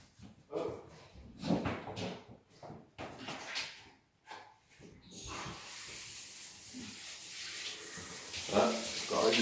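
Shower water running in an apartment bathroom, a steady broad hiss that starts midway and continues to the end, close and fairly loud, after a stretch of people talking and handling fixtures.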